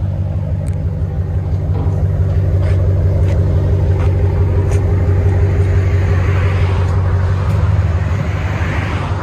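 A RAM 1500 pickup with the 5.7L HEMI V8 and a Black Widow Venom Race Muffler idles steadily, a loud, deep and even exhaust rumble heard close up and alone.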